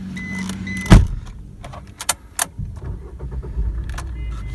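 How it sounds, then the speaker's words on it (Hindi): Maruti Vitara Brezza with a diesel engine being started: a sharp click and key rattle, a brief cranking burst, then a quiet, settled idle hum with small clicks from inside the cabin. "चलिए कर लेते हैं गाड़ी को स्टार्ट।"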